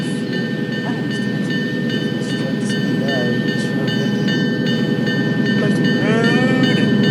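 A diesel locomotive train runs on rails with a loud, continuous engine drone and steady tonal hum, while a person speaks briefly over it.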